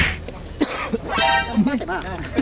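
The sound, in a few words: cough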